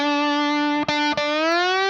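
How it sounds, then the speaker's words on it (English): A James Tyler JTG MK1 electric guitar through a distortion stomp box sustains a thick, saturated note with rich harmonics, briefly broken twice by quick picking attacks before ringing on, loud and close, no talking. "But if I hit my stomp box on the guitar,"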